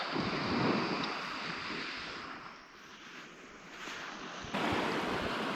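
Sea waves wash and break steadily against a rocky shoreline on a long beach below a mountain in Norway, a broad continuous roar with swelling surges and some wind on the microphone.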